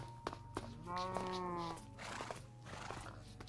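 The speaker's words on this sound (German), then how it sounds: "eine Kuh" A Minecraft cow moos once in a drawn-out, tonal call lasting about a second, faint and close, amid light clicking sounds from the game.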